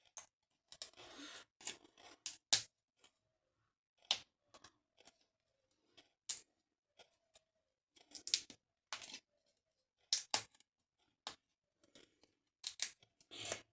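Thick cardboard die cuts, heavier than paper, are separated by hand for an Easter decoration: a quiet, close series of irregular short snips, pops and scrapes with pauses between, no talk.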